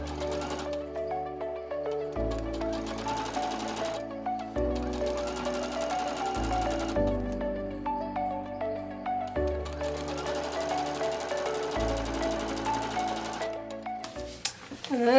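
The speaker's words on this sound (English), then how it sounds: "And then I'm going to sew from edge to edge the 1/4 inch seam line." A sewing machine stitching a 1/4 inch quilt seam from edge to edge on a quilt block, its steady motor whir shifting pitch in segments as speed changes, close and continuous, with no talking.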